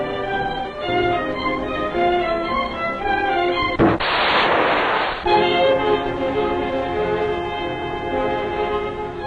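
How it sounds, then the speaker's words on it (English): Rocket life-saving gear fires a line at sea, a single loud rushing blast lasting over a second, set against a steady orchestral music score. "Rocket life-saving gear is used to throw a line over the men."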